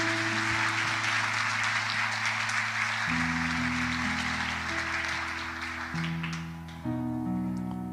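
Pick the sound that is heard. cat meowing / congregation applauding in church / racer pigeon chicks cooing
congregation applauding in church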